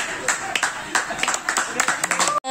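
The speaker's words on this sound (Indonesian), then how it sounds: "Tepuk tangan." Classmates in a vocational high school art class clap after a group presentation, a brisk, dense patter of many hands at close range that stops abruptly near the end.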